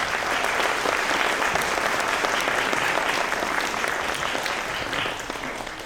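An audience at a graduation ceremony applauding, with loud, sustained clapping from a large crowd that fills the hall and tapers slightly toward the end.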